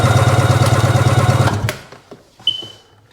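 A Sea-Doo 3D jet ski's 787 engine, which has engine troubles, roars loud and steady for over a second, then cuts out abruptly, leaving faint clicks and a brief high squeal in the quiet.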